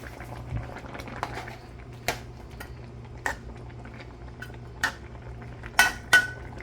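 Egg going into sautéed fish in a pan for Filipino sarsiadong isda, heard as soft utensil clinks and scraping over a low simmer, with several sharp taps spaced through the clip.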